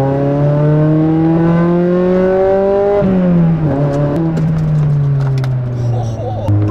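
Honda Prelude Type SH, a roughly 200-horsepower JDM sports car, accelerating hard from inside the cabin, engine tone climbing steadily then dropping briefly at a gear change before pulling again, loud and continuous.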